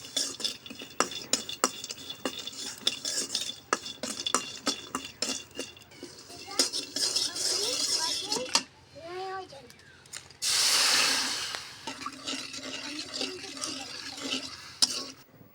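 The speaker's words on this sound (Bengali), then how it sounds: "এখন একটি কড়াই বসিয়ে তারপর শুটকিগুলি কিছুক্ষণ ভেজে নেব।" Dried loitta fish frying in a wok gives a soft sizzle with stirring and scraping of a spatula against metal, low and fairly quiet, with a brief louder hiss burst partway through.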